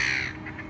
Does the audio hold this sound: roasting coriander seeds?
no